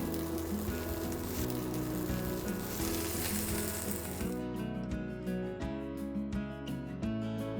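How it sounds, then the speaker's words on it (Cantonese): Cherry tomatoes sizzle and crackle in a frying pan, a dense steady hiss that thins into scattered pops and spits, with no talking. "咁咧車厘茄咧我就煎多一陣，咁啲車厘茄咧輕輕煎一煎佢，煎到佢咧有少少燶燶地"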